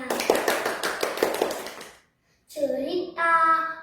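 Children clap their hands in rhythmic, evenly spaced claps for about two seconds, fairly close. A voice speaks after a brief pause.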